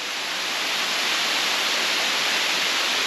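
Steady, loud roar of a mountain waterfall on the trail to Moldoveanu Peak, heard from close by as an even wash of falling water with no voices.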